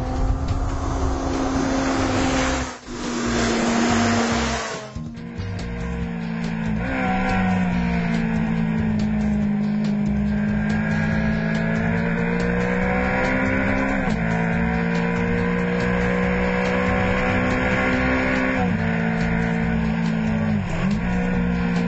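A Honda CBR600RR sport motorcycle engine revs while being ridden. The high steady whine climbs and falls in pitch through gear changes, with a brief dip near the start, and it carries on alone and close for about twenty seconds.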